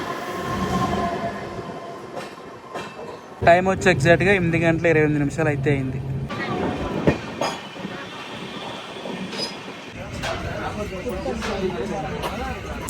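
The Bengaluru–Tirupati Intercity SF Express 22618 runs out from Whitefield with rumbling, rhythmic rail clatter and a burst of wheel squeal. Someone talks in Telugu over the noise.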